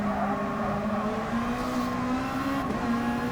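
A race car engine drones steadily and close in GT Sport, its pitch slowly climbing as it overtakes a rival who spun off, with no voices over the engine.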